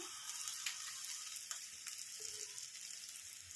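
Potatoes fry with spices in a pan, giving a soft, steady sizzle with faint stirring scrapes throughout, quiet and close with no talking.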